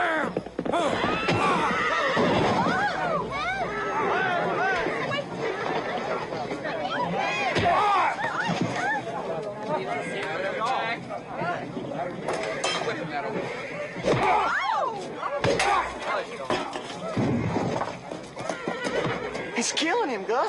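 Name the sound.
horse neighing and hooves clip-clopping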